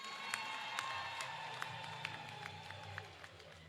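Audience at a formal ceremony applauding, dense continuous clapping with occasional brighter individual claps, steady and fairly loud from start to finish.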